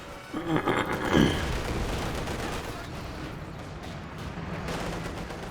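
T-34-85 tank fire in the Company of Heroes 2 battle game, with a couple of heavy booming shots early on followed by a sustained rumbling battlefield din of distant explosions.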